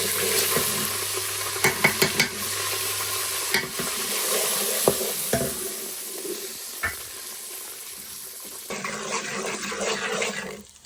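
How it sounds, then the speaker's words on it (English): Spices dropped into hot oil for a meatball and spinach curry sizzle and fry, with stirring clatter and scraping in the pan, loud and close, with no talk. "So I'm going to add all the spices in one go."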